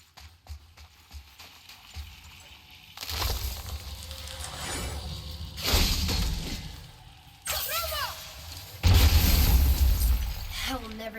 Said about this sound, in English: I will never get tired of shattering things with this.